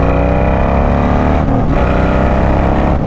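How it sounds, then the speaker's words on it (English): A 2025 Harley-Davidson Street Glide Ultra fitted with a Zipper's performance upgrade exhaust rumbles loud and close as it accelerates in third gear, a steady deep throbbing roar that holds throughout with no talk. "now that I have a little rumble in the back here, people can hear me as I'm coming through."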